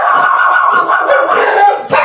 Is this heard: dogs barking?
yes